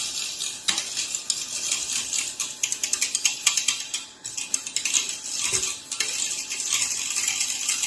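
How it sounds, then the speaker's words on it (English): A whisk stirs white sauce for lasagne in a pan, giving a continuous run of quick metallic scraping and clicking strokes close up, steady for several seconds with a few brief pauses. "you just take the last of it onto your whisk and whisk that in."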